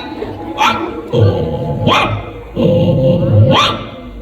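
A person mimics a big dog fighting, with three deep, gruff barks, each followed by a low rumbling growl, loud and close.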